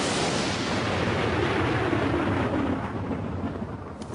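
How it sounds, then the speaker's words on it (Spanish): Thunder from lightning strikes over South Africa rolls as a loud, dense, sustained rumble with a broad crackling roar that slowly fades toward the end. "Los rayos caen sobre Sudáfrica."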